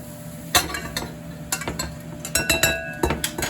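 A spatula scraping and stirring garlic in a pan, giving irregular metallic clinks and scrapes in uneven bursts over a soft sizzle, close and clear with no talking.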